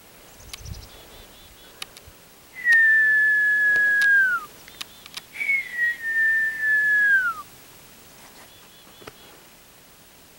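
Bird calls from high overhead on a high-altitude track trip, two long, thin descending whistles a few seconds apart, clear against quiet outdoor background rustle.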